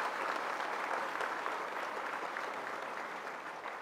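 An audience at a government land-title handover ceremony applauds in a steady, fairly faint, continuous wash of clapping that fades slightly toward the end.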